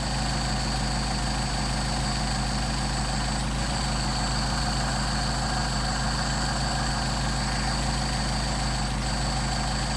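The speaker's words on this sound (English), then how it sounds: "let's say we want to get it up to 750 RPM" A Mercedes 190SL engine fitted with Solex 44PHH carburetors idles steadily, a constant low mechanical drone with an even hum throughout and no voices.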